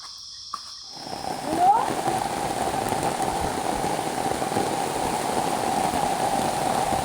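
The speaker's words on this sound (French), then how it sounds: "c'est la pluie. Oui, c'est la pluie." Rain falls steadily on a freshly pitched camp tarp in a forest, a dense, even hiss that swells in after a quiet start and holds loud and continuous.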